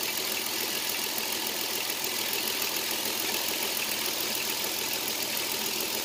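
A Dodge Grand Caravan 3.3 V6 engine idles with a steady, even hum and faint rhythmic pulsing, loud and constant throughout with no voices.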